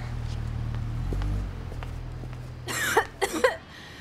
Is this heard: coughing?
yes